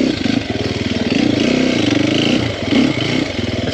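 A Sherco 300SEF four-stroke dirt bike on slow technical single track putters loudly and close with a choppy, pulsing exhaust note, blipping the throttle and briefly revving up near the end.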